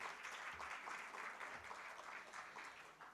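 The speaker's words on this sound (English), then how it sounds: "A huge round of applause for the gentleman" A conference audience gives a round of applause at a group event, a dense, even patter of many hands clapping together, fairly distant and muffled, holding steady for a few seconds.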